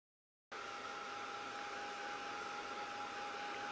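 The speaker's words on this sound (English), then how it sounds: "very quickly take the heat gun" Heat gun blowing on plastic: after a half-second of silence, a steady airy whoosh with a thin whining tone switches on and holds evenly at a moderate, close level.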